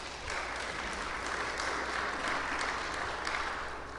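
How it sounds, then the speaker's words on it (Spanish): A church congregation applauds to welcome a visiting sister from Colombia, a steady, moderately distant round of clapping lasting several seconds with no talk over it. "Un aplauso a nuestra hermana Camila."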